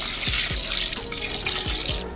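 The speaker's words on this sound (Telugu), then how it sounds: "కొద్దిగా వేడైన తర్వాత నీళ్లు తీసుకొని చికెన్ పైన వేసుకుందాం." Water poured from a vessel over chicken in a pot while making dum biryani, a continuous splashing, trickling pour with small drips, fairly close and steady, with no voices.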